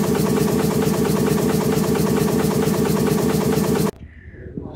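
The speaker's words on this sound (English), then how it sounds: "So I sped it up and put it on a loop to simulate what 300 RPM would sound like" A steam engine for a Skinner engine project, sped up and looped to simulate 300 RPM, producing a loud, dense, rapidly pulsing mechanical chug that runs steadily and then cuts off abruptly, leaving faint room sound.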